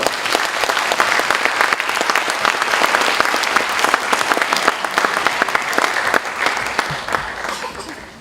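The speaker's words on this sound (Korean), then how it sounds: "우리 모실 때 큰 박수로 환영해 주시기를 다시 한번 부탁드리겠습니다." A church congregation at a Sun Moon University worship service claps in welcome, a loud, dense, steady burst of many hands that thins slightly toward the end.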